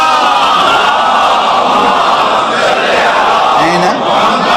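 A large crowd chants durood (salawat) together at a religious gathering, a loud, sustained mass of voices in unison that fills the space.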